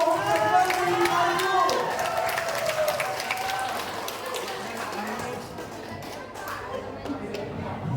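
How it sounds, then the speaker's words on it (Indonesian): Steady applause from a crowd fills the whole stretch, with chatter and voices mixed in underneath, at a school quiz competition final. "Tepuk tangan yang ke-10."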